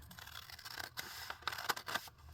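Scissors snipping through paper for a banknote and glue book page tag, a run of crisp, close cuts and rustles in quick irregular succession, with no voices.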